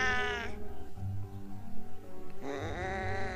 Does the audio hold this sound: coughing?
no